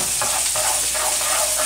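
Chopped garlic and ginger sizzle steadily in a hot pan, with a continuous bright hiss and faint stirring scrapes, close and alone without speech.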